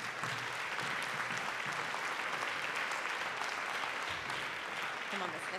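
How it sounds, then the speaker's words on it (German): Audience applause fills the hall at a stage event, a dense, even wash of clapping from a crowd that carries on for several seconds without a break. "Ja, Applaus."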